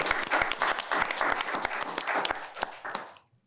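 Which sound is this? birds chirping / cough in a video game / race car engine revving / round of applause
round of applause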